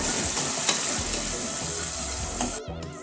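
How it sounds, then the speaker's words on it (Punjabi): Chopped tomatoes and onions fry in a hot tempering for ridge gourd and spinach saag, a close, steady sizzle with stirring scrapes that softens near the end. "ਹੁਣ ਅਸੀਂ ਟਮਾਟਰਾਂ ਨੂੰ ਵੀ ਪਕਾ ਲਵਾਂਗੇ ਪਿਆਜ਼ਾਂ ਦੇ ਵਿੱਚ"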